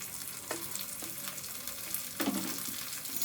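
Cut tomatoes roast in a hot pan for a tomato gojju, a dense, steady sizzle broken by scraping stirs and wet splashy bursts, close and continuous.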